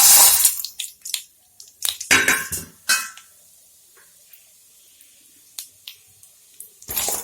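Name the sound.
Maggi noodles poured into hot ghee in a pan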